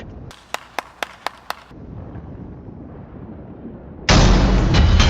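Explosions in an anime fight scene: five sharp, evenly spaced booms go off in quick succession, followed by a stretch of low rumble and then a sudden loud, roaring blast.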